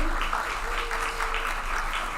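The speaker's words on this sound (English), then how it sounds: "Another round of applause for Shanae Jeffrey." An audience at a disability mentoring kickoff reception applauds a speaker with steady, continuous clapping throughout, fairly distant in a large room.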